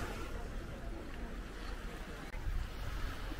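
Waves wash onto a beach on Bintan where people are swimming, producing a continuous low rumbling surf mixed with wind buffeting the microphone, heard at moderate distance without clear talk.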